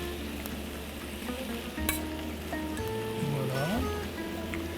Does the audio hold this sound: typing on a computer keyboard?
no